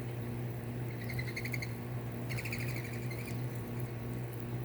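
Birds chirp in a garden, two short bursts of quick, high tweeting trills at moderate distance over a steady low outdoor hum, no talk.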